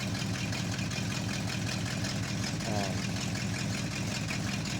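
The engine of a 1971 Chevrolet K10 pickup truck runs at a steady idle, a constant low rumble with no change in pace throughout; faint voices can be heard underneath.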